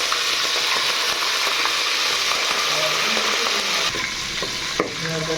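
Green chilies fry in hot oil for a Bengali-style chicken curry, a steady loud sizzle with stirring scrapes running throughout while a voice talks over it.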